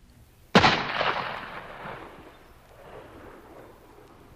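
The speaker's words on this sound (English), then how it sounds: "pulled the trigger of his gun" A single sharp gunshot cracks out close and loud from a soldier's gun, then a long rumbling echo fades away over several seconds.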